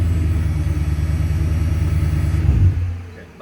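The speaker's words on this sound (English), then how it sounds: "Hear the V8 roar!" A drift car's V8 engine running nearby, a loud steady rumbling drone with slight pulsing that holds for several seconds and then cuts off and fades.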